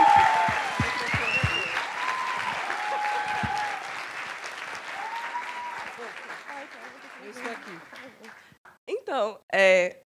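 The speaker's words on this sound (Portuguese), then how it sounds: "Uma salva de palmas para a Raquel." Audience applause at a university talk, a crowd clapping steadily with scattered cheers and whoops mixed in, fading out as a voice starts speaking at the end.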